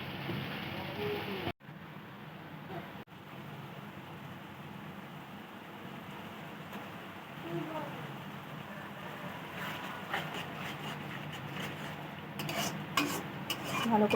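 Chili paste and poppy seed paste being sautéed in a pan for a Bengali potol chingri dish, with a soft steady sizzle and occasional stirring scrapes under quiet, faint background sound.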